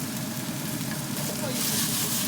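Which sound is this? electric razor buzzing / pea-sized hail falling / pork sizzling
pork sizzling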